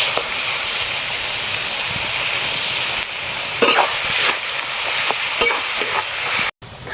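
Kundru (ivy gourd) paste frying with spices in a pan, a steady dense sizzle throughout with occasional stirring scrapes, loud and close, cutting out briefly near the end.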